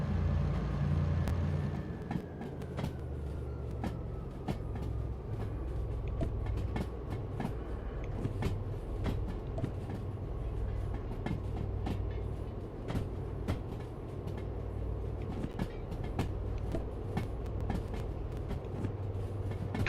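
Continuous rumble of a long freight train with four engines in a video game, with rhythmic clicking from the rails and a faint tonal whine, steady and close throughout.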